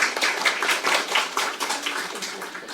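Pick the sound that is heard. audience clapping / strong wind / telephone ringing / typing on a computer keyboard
audience clapping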